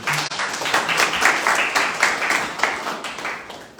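Applause at the official opening of a bill payment service in Dominica: a crowd claps steadily for a few seconds, moderately close and fairly dense.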